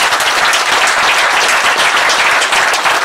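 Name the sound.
audience applauding speaker Philippe Pascot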